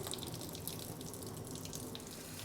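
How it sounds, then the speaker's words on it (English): Running water steadily washes a platinum palladium print in a darkroom, a faint continuous splashing trickle with no voices. "cut back the water a little bit, and now I'm just going to give it about a 10-minute wash"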